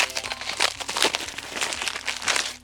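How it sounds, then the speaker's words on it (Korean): Plastic shrink wrap being torn and peeled off a newly delivered hardcover book, with continuous close crinkling and ripping bursts and no talking. "비닐 뜯어서 한번 같이 구경해보죠"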